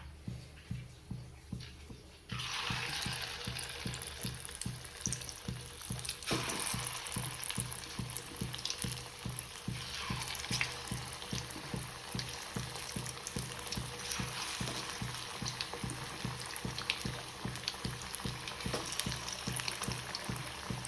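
Food sizzling and crackling as it fries in hot oil in a home kitchen pan, a steady dense hiss with rapid regular bubbling pops that starts abruptly after a quieter moment and continues at close range without talk.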